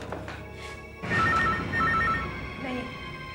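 A home telephone rings in repeated bursts, loud and close, with tense voices around it.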